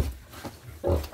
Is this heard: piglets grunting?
yes